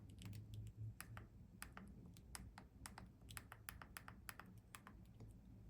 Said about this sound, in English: I'm going to stay silent for just a moment so you can actually hear what the clicking sounds like